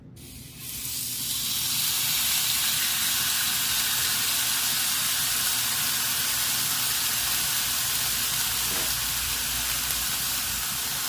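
A marinated steak, seasoned with Worcestershire sauce, malt vinegar, garlic and onion powder, sizzles steadily on a grill, a loud, even hiss that starts abruptly and carries on unbroken with no one talking.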